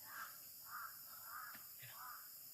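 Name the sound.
crow cawing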